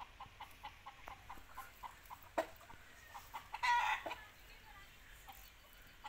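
A household rooster running at and chasing a stranger, giving soft, rhythmic clucks that step along steadily, then a brief louder squawking burst midway, heard fairly close over a quiet outdoor background.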